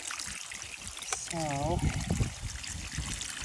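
Water is poured into a rock tumbler barrel holding polishing media and obsidian, giving a steady trickling splash under a voice.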